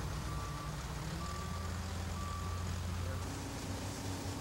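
Dump truck backup alarm during road shoulder repair work, three evenly spaced steady beeps over a loud constant rumble of heavy machinery, with a voice talking over the noise.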